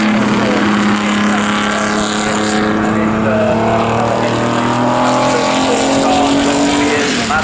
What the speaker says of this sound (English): Maserati 250S,